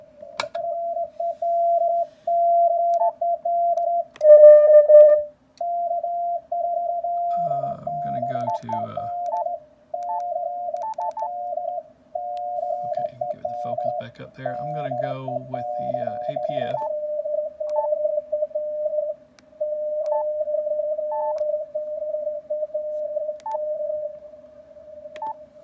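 A steady tone keyed on and off in Morse code patterns from a low-power QRP station on a Yaesu FTdx5000MP receiver, with brief bursts of garbled noise and a voice partway through.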